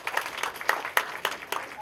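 Comedy club audience giving scattered clapping, sparse individual claps at irregular intervals, fairly close and modest in volume.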